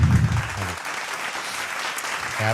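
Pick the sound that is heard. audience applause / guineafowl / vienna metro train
audience applause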